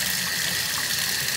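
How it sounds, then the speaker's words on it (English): Cold water runs steadily from a shower, a constant broadband hiss and splash that fills the short stretch with no break. "Yeah, good cold water going on."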